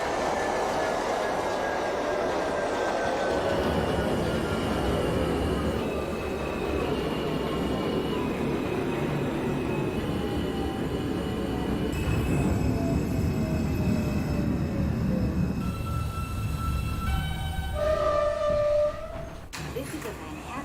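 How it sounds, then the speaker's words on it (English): A simulated NYC Subway R160 local train on the J line rumbles along steadily, with rising and falling motor whine tones and a late high squeal as it slows, loud and continuous with no talking. "This is a Manhattan-bound local train."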